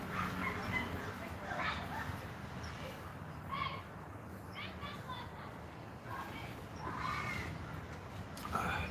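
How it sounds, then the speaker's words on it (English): Crows cawing at roosting time in tall redwoods, several harsh calls scattered through the stretch, some overlapping, heard at moderate distance over a low background murmur. "Mom Crow, oh, what are you doing? Yeah, it's roosting time"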